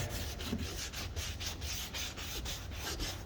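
Rag scuffing across the surface of an RV plumbing vent cap, a close, steady rubbing and swishing in quick repeated back-and-forth strokes with no break, heard alone.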